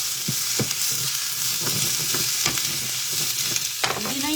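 Vegetables fresh from the garden fry in a small pan (kawali), seasoned only with salt and pepper, giving a steady close sizzle with occasional sharper crackles and stirring scrapes.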